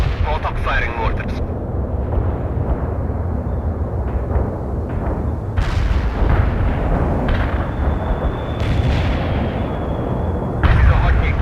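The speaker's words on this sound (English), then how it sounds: "Auto firing mortars." Automatic mortar fire in the real-time strategy game World in Conflict, a dense, continuous rumble of booming launches and distant impacts layered over battlefield noise, with brief radio chatter mixed in.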